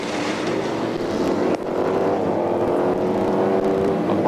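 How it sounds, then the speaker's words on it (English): A Pescarolo Sport Courage prototype race car at the 2000 Le Mans 24 Hours roars loudly and continuously, its engine note climbing steadily, with no talk over it. "That's a 16 car, that's a Pescarolo Sport Courage."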